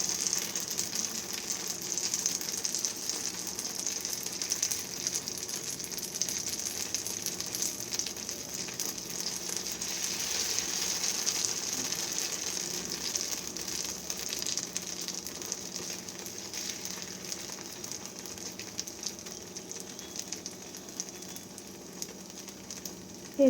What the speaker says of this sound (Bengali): এরকম ব্যাটার নিয়ে তাওয়াতে অল্প একটু দিয়ে দেবো, দিয়ে ভালো করে হালকা হাতে এরকম একটু গোল করে নেব।